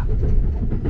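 A Hitachi limited express train running on rails, a steady low rumble and rattle of the carriage filling the interior with continuous noise, no voices.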